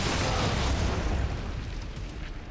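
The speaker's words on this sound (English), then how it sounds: "Those explosions are no fun to deal with." Explosion in the video game XCOM 2: a loud, dense roaring blast with rumbling low end that sustains and slowly tapers over a couple of seconds, with no talk.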